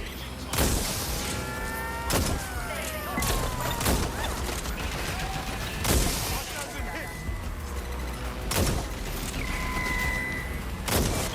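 Gunfire in the video game Watch Dogs: Legion: sharp shots and heavy booms burst out roughly every two seconds, close and loud, amid a busy combat soundscape with whooshing and crashes.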